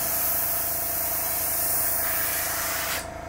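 An airbrush sprays unthinned Vallejo Model Color acrylic paint, giving a close, steady hiss that runs continuously and drops off slightly at the end.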